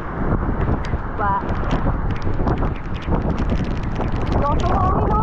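Strong typhoon wind roars continuously and loudly during Typhoon Enteng, a dense unbroken rush with brief higher tonal sounds cutting through it.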